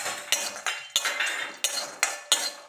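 Copra pieces roasted in a hot iron wok (iluppachatti), with a metal spatula scraping and clinking against the pan in repeated strokes, close and steady, no talking.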